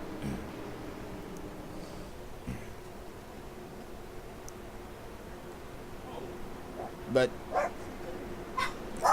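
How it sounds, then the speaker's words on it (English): Household dogs bark in a few sharp bursts late in the clip, fairly close, over a low steady background hum with occasional yips. "my dogs are barking"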